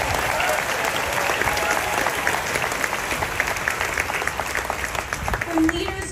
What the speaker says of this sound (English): give them that round of applause